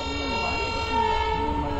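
A passenger train halted at a railway crossing rumbles steadily, with a long horn-like tone and metallic rolling noise throughout, and people talk over it nearby.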